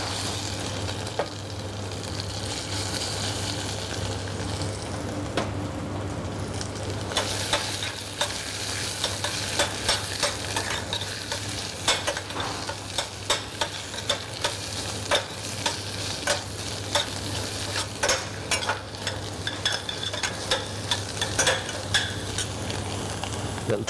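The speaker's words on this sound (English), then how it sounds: "Spinach. Got to fry this off." Spinach frying off in a pan for poached haddock Florentine, a soft, steady sizzle throughout with scattered light scrapes and clicks of stirring growing more frequent later.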